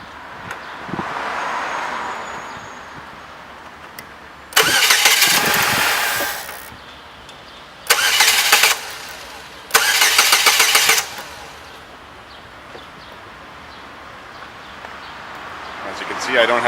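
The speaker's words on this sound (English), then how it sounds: "And now I'm going to go start the car and let it stall." A car with an Ecotec 2.2 liter engine cranks and catches three times in a row, each start running briefly before stalling out, loud and close with quiet gaps between.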